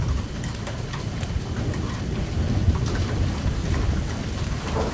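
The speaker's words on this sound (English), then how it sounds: "Big raindrops, cold, big raindrops right now." Steady heavy rain of big, cold drops pattering and splashing all around during a storm in Norman, Oklahoma, loud and continuous, with a low rumble underneath.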